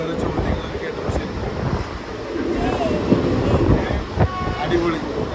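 Steady rumble of a moving train heard from inside a carriage, with rattling and wind noise throughout and brief tonal squeals or a distant horn near the end; no clear speech.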